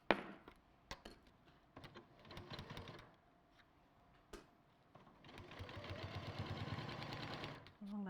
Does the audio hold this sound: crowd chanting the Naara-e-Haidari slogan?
no